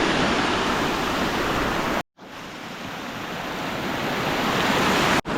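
A waterfall pours down a mountainside near paddy fields, making a loud, continuous broadband rush of falling water with two abrupt brief breaks. No one speaks.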